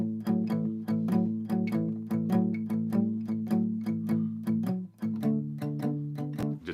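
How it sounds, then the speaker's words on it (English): Palm-muted electric guitar plays a blues shuffle in a steady swung rhythm of short, choppy, damped chords, close and clear with no talking. "Rest your hand on your strings back by your bridge. So you get this effect"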